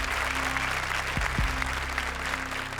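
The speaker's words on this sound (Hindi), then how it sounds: "जोरदार तालियां." Loud studio audience applause on a comedy show set, a dense continuous burst of clapping under a low musical hum, with a couple of sharp thumps mid-way.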